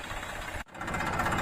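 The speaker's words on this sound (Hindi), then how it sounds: "दोस्तों ट्रैक्टर को हमने 1530 RPM सेट कर लिया है ट्रैक्टर के" A tractor engine held at a steady 1530 RPM to drive a harrow, giving a continuous loud mechanical drone with a rhythmic knock, broken by one very brief dip before carrying on steadily.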